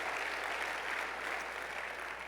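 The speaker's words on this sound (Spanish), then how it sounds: "dale un aplauso fuerte al Rey de Gloria, Jesús" Congregation clapping during a church sermon, a steady, dense wash of applause filling the whole moment with no voices over it.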